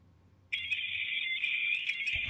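A mobile phone rings with an incoming call, a steady electronic ringtone that starts abruptly and holds loud and close for about two seconds in a quiet room.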